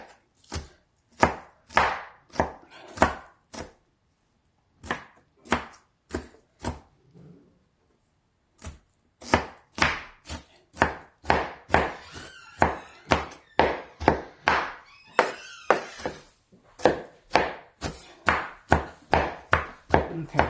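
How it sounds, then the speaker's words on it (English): A knife chops cabbage on a board in quick, even strokes, near and crisp, with one short pause before the rapid rhythm resumes. "I'm done chopping."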